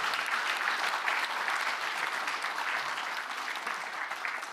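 Steady, dense applause from a seated audience at a public policy forum in Gangwon, sustained and fairly even throughout with no one speaking over it.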